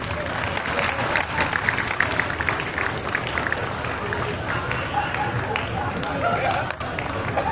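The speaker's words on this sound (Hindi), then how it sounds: "तालियां बजा दो अगर अच्छे दर्शक हो" Audience applause at a Hindi stand-up comedy show with comedian Sunil Pal, a loud, dense, continuous burst of crowd clapping filling the whole stretch with little variation.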